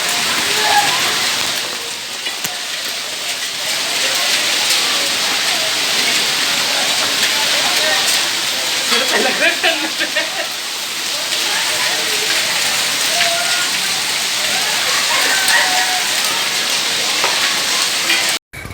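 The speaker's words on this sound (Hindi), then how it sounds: "आज जिस प्रकार ओलों के साथ बारिश हुई है" Heavy rain mixed with hail falls in Delhi during a May storm, a dense, loud, continuous hiss and patter of drops and ice pellets striking surfaces, steady throughout with no voices.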